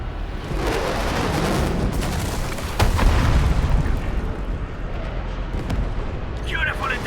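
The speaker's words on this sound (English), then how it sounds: "The UWST will fire at where you've marked." An artillery strike from the UWST in Arknights Endfield pounds down as a continuous roaring barrage, with a sharper booming impact near the three-second mark and rumbling blasts trailing off; brief speech-like sounds appear near the end.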